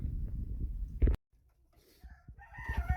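A rooster crows near the end, after a low rumbling noise and a brief silence.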